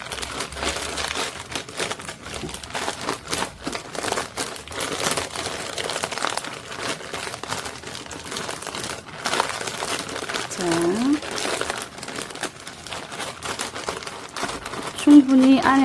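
A plastic bag holding a soap-making mix of powder and liquid is kneaded and squeezed by hand, giving close, irregular crinkling and rustling, with a voice heard in places.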